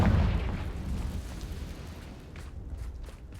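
A fire spell explodes in the Hogwarts Legacy video game, a deep, rumbling boom that hits hardest at the start and then fades into a lingering low roar with faint crackles near the end.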